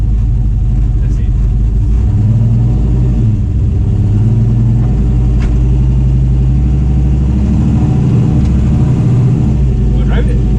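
Turbocharged Chevy OBS truck engine revs and pulls under acceleration, a loud, steady low rumble close by from inside the cab, with people talking over it throughout.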